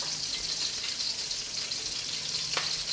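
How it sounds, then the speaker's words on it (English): Garlic and onions fry in about three tablespoons of oil over low heat, giving a steady, close, even sizzle throughout with one brief sharper crackle near the end. "Add about maybe 3 tablespoons of oil just to cook the onions and the garlic."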